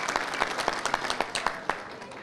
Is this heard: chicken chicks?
no